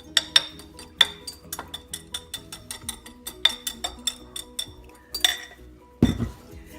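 A stand mixer's paddle works flour, baking soda and kosher salt into soft vanilla bean cookie dough, giving a quick irregular run of bright metallic clinks and taps against the bowl over a low motor hum, ending in a louder clatter.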